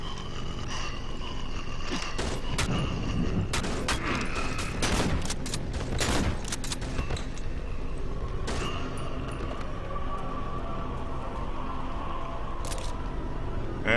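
A shotgun fires in the horror video game Cry of Fear, with several loud blasts and mechanical clatter over a dense, constant game soundscape of hums and noise, close and heavy.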